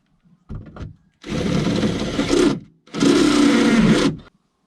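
A power drill bores through the metal body of a VW T5 van in two sustained bursts, loud, close and whirring, preceded by a short spin-up.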